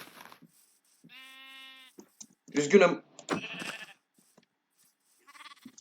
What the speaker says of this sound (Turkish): Bağırmayın koyunlar.